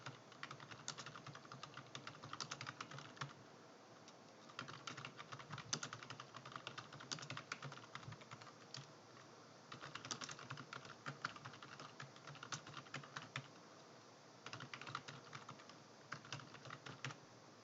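Steady typing on a computer keyboard while filling in a spreadsheet table, with dense clusters of close, light key clicks running throughout and brief pauses between bursts.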